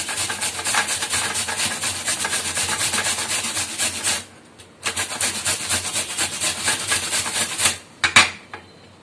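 Rapid rhythmic scraping of pumpkin against a grater, steady back-and-forth strokes, a short pause, then more grating ending in a few clunks.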